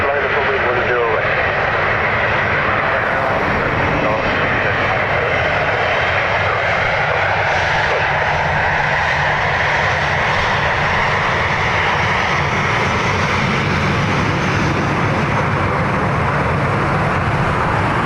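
Jet airliner engines rumble steadily at Dublin Airport during a runway line-up, a loud, continuous drone with rising whine, while air traffic control radio talk runs over it throughout.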